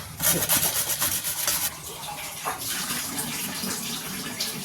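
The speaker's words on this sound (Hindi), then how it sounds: "आलू ग्रेट करके डालेंगे, गाजर ग्रेट करके डालेंगे।" Potato being grated on a kitchen grater, a loud repeated scraping rasp in quick strokes, easing into a softer, steadier scrape.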